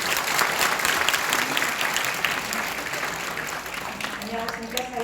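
An audience at a talk concert claps steadily in a dense, continuous wash, with a voice starting to speak over it near the end.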